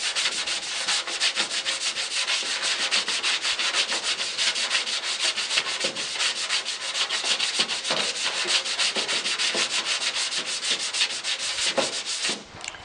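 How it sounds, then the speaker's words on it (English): Hand sanding on the steel door skin of a 1967 Mustang, a continuous close rasping scrub in quick back-and-forth strokes, loud and steady with no talk. "as I sand it a little bit more, I can see that that's cleaning up pretty good"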